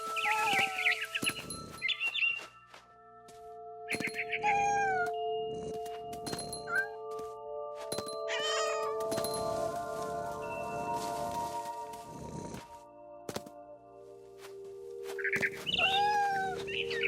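A cat meows several times in a video game, short rising and falling cries spread across the scene over a steady tonal music bed, with chirpy bird-like calls mixed in.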